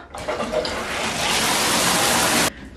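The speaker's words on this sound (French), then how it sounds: "On va aller prendre une petite douche." Shower water at home pouring in a dense, steady hiss that starts abruptly, runs loud and close for about two seconds, then cuts off sharply.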